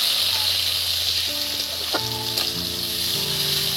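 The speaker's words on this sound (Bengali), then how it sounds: "এবার এর মধ্যে পেঁয়াজটা দিয়ে দিচ্ছি" Onions go into hot oil and goat fat in a pan for ghugni, a loud steady sizzle and crackle running throughout with a few stirring clinks, close up and with no talking over it.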